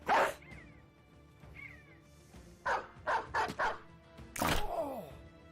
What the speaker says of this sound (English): Release the dog.